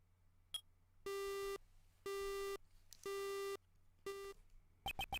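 Telephone busy tone after a call is cut off in the Ace Attorney Investigations 2 game: four evenly spaced clean electronic beeps about a second apart over a low hum, followed by a few quick sharp clicks at the end.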